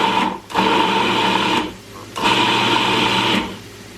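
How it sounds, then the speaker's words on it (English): A food processor purees drained chickpeas in two loud whirring bursts of about one and two seconds each, the motor stopping briefly between them. "I've got them in my food processor and I'm just going to puree them, or just about puree them"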